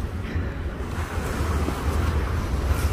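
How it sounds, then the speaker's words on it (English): Waves crash and wash onto a beach in Kuwait, a continuous low surf rumble mixed with wind buffeting the microphone, with no talking. "The waves crashing on the beach."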